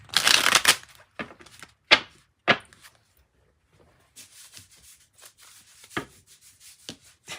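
A Morgan Greer tarot deck is shuffled close up: a few sharp riffling bursts at first, then softer, irregular sliding and tapping of cards, with quiet gaps between.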